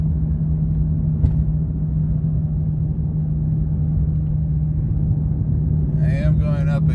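A Lexus GS430 driving uphill at around 55 to 60 mph, fitted with a GS300 differential, gives a steady loud low engine drone and road rumble, with a brief voice near the end.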